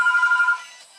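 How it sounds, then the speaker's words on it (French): A mobile phone ringtone plays loudly and alone, a short bright electronic tone that rings for about half a second and then fades away. "Désolé pour mon téléphone qui sonne."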